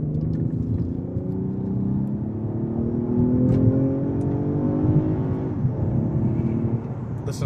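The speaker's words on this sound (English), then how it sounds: "Listen to the quick gear changes." A 2019 Toyota Avalon Touring V6 in Sport Plus mode accelerates hard, its engine note climbing steadily in pitch with quick gear changes, heard loud and close from inside the car.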